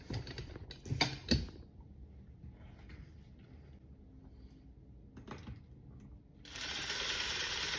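Ratcheting clicks of a screwdriver driving screws into a toe kick floor vent duct under an Ikea cabinet, a few close sharp bursts followed by quieter mechanical handling and a brighter whirring rasp at the end.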